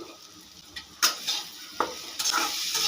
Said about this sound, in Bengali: আলু ও মশলা খুব ভালো করে আগে মিশিয়ে নেব